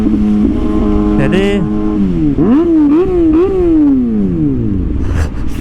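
Kawasaki ZX6R motorcycle accelerating through the gears without the clutch using a quickshifter, engine note rising in pitch, dropping sharply at each quick shift, then climbing again; loud and close, with someone briefly speaking.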